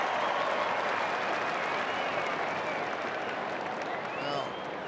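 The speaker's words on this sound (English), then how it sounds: "The crowd's happy with that." A big stadium crowd at an AFL match between Fremantle Dockers and GWS cheers and applauds in a broad, sustained roar that eases slightly toward the end, with a commentator talking over it.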